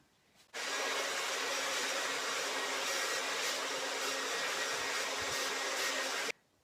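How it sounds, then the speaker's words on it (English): A hair dryer blows across a paint pour on a tabletop, switching on abruptly and holding a steady, loud whooshing roar for several seconds before cutting off sharply, with no talking. "I think I am going to get the hair dryer."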